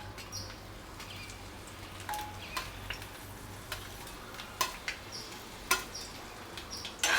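Dried red chillies frying in oil in a pan for lemon pickle, a steady faint sizzle with scattered crackles and pops and occasional stirring scrapes, growing more active toward the end.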